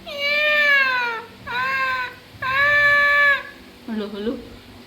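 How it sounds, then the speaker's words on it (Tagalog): A cat gives three drawn-out, falling meows in quick succession, loud and close, followed by a shorter, lower vocal sound at the end. "Meow! Meow!"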